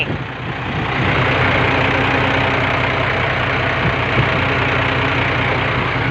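A big white truck's engine runs steadily nearby, a loud, even low rumble with a faint knocking texture that builds in the first second and then holds without talk.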